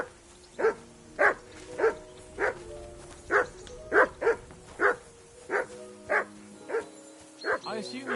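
A dog in Kingdom Come: Deliverance II barks in a steady, evenly spaced series of about fourteen loud, close woofs over a faint sustained tonal background.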